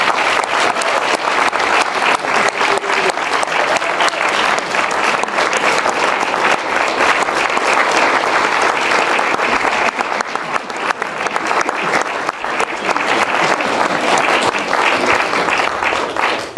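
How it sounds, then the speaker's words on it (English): Sustained applause from a large crowd at an Eagle Scout Court of Honor ceremony, steady and loud throughout, with dense overlapping claps that never let up. "Let's give our Eagle Scout Nick one more round of applause."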